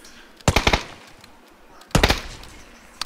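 Two bursts of rapid gunfire in the battle royale game PUBG, each a fast volley of sharp, loud shots lasting about a third of a second, separated by a pause over faint background noise.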